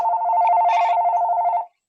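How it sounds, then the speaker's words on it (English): A telephone ringing during a video call, one steady loud electronic ring lasting over a second and a half, then stopping abruptly, with no talk over it. "Whoever's got the phone ringing, can we mute that or mute yourself?"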